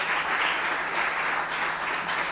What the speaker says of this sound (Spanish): para ella es para quien pido el aplauso